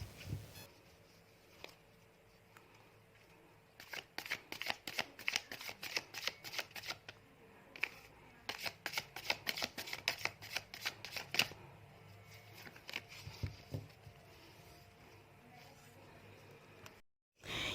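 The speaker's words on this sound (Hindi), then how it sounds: "जब तक मैं कार्ड्स को शफल कर रही हूँ" Tarot cards are riffled and shuffled by hand in a quiet room, a run of crisp, rapid flutters that starts softly, then builds into repeated bursts of close, papery snapping and ends with a brief pause.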